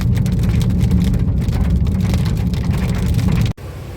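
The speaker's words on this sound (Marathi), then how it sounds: "आईला पाऊस सुरू झाला इथे अक्कलकोटला" Heavy rain in Akkalkot during a thunderstorm drums steadily on a car, a loud, continuous hiss that cuts off abruptly near the end.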